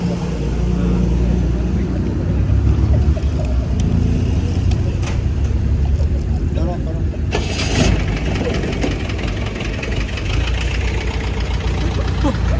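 A jeep rolls backward with its engine running, giving a loud, steady, rough knocking rumble that stays up close for the whole stretch, with a brief rattling surge partway through and voices talking under it.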